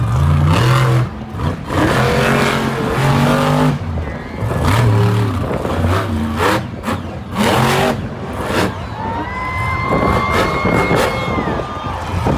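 Monster Jam monster truck engine at an El Paso arena show, loud and revving with rising and falling pitch sweeps as it enters the track, over crowd and arena noise.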